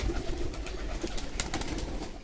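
Pigeons, including local jalali pigeons and their young, coo and call over a steady background hum with brief wingy bursts near a coop, continuous and fairly close, with no one speaking.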